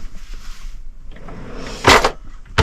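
A kitchen drawer in a camper van slides open, one clattering rattle followed by a short sharp knock a moment later, close by over a quiet background.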